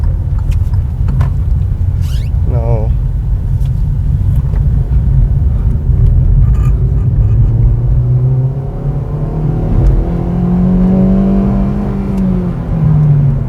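A Hyundai Verna 1.6 petrol engine revs up steadily, its pitch climbing as it accelerates under a constant rumbling road noise, with no voices.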